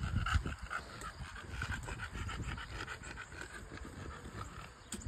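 An English Bulldog pants rapidly and unevenly after an early morning run outdoors. The panting is close but fairly quiet, with faint footfalls or scuffing underneath and no speech.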